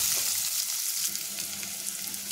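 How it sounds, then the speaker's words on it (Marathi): Onions fry in a pan with chilli and curry leaves until golden, a steady close sizzle and crackle running throughout with no voices. "कांद्याला छान सोनेरी रंग येईपर्यंत आपल्याला भाजायचे"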